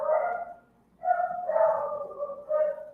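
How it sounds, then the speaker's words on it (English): Several dogs barking in short, sharp bursts somewhere in the house, fairly close and moderately loud, with a brief pause between volleys. "Sorry, the dogs are barking."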